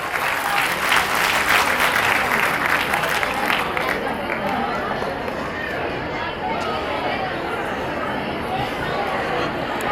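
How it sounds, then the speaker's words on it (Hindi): Audience applause at a school annual function welcoming grade 1 students to the stage, loud and sustained for the full length, with crowd chatter mixed in and the clapping easing slightly after the first few seconds. "let's welcome our students from grade 1 to the stage with a huge round of applause."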